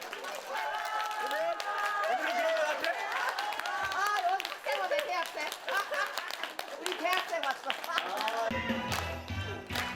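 Elderly audience in Dangjin clapping for an arriving singing instructor, dense applause mixed with voices and music-like tones, continuous and lively before a sharp shift near the end.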